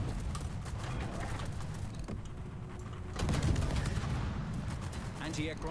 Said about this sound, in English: Anti-aircraft gun crews are